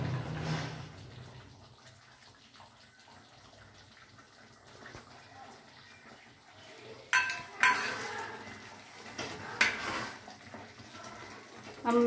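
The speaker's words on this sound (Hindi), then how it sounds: "अब मैं इसमें कटा हुआ जो ड्राई फ्रूट है इसमें मैं ऐड कर दे रही हूँ।" Chopped dry fruits dropped into a pot of nearly cooked kheer and stirred, giving soft scraping and a few sharp clinks of a spoon against metal, faint and close with little else around.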